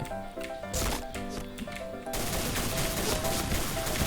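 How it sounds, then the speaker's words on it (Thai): Dual pistols firing in a video game, a rapid string of close, sharp shots over game music, building into a dense, continuous volley of gunfire. "โอเคมาปืนพกเราละ ปืนพกคู่นะครับตอนนี้"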